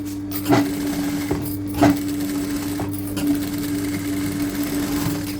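A sewing machine stitches canvas along a marked line, a steady close mechanical whirr with a constant hum and a few brief knocks. It runs without pause and no voice is heard.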